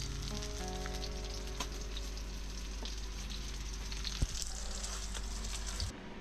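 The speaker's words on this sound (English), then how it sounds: "Bit of a fish cook up from today's catch." Fish from the day's catch, including red emperor, frying for fish tacos in a steady, crackling sizzle with occasional pops and a light scrape, close by, over a low background hum.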